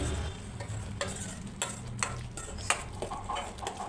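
Kasuri methi, turmeric and garam masala frying in a pan for a peas and paneer gravy, heard as a quiet sizzle under soft, irregular stirring scrapes and light taps, with no one speaking.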